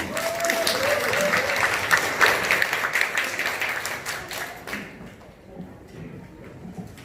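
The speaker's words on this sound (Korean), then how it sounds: "큰 박수로 모시겠습니다." A seminar audience claps to welcome a speaker, dense applause with a few audible whoops that thins and fades over the last couple of seconds.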